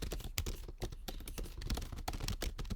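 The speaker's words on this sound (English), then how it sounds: "let me just type out some dummy text" Rapid clattering of computer keyboard keys while dummy text is entered into a slide layout, a dense, uneven run of close, crisp keystrokes throughout.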